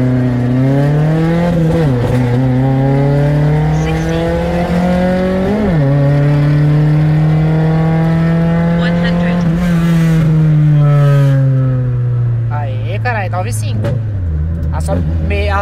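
A Chevrolet Celta 1.8 with a Montana engine accelerates hard near the microphone, its loud engine note climbing through several gear changes with a brief dip at each shift, and voices talk over it.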